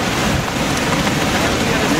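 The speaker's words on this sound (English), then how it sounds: "that wind right there" Strong wind gusts from a bow echo storm roar steadily across the microphone, a dense, loud, continuous rush with no pauses.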